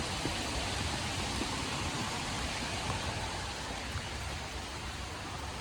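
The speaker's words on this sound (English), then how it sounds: "It is raining a bit." Light rain falls steadily outside a large Boston home on a muggy day, a dense, even hiss with no pauses and no voices.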